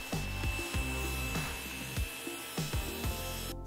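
Table saw ripping a wooden offcut to size, a steady motor whine with pitch dips as the blade bites into the wood several times, close and continuous.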